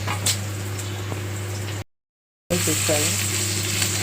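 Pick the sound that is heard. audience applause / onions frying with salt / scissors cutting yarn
onions frying with salt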